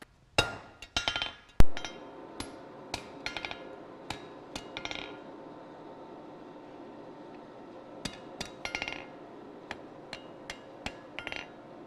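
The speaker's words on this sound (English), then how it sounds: "So I'm just setting up here to do the rivet" Sharp metallic hammer strikes ring out as a rivet is peened on a pair of forged scorpion tongs, arriving in irregular clusters of taps with short pauses between them, close and clear.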